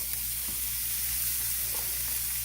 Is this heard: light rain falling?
no